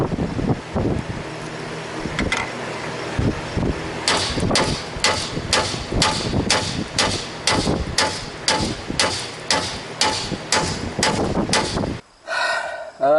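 Repeated hard metallic hammer blows strike a stuck spring shackle bolt on a Chevrolet Silverado, a slow irregular start giving way to a fast steady run of ringing hits, close and loud.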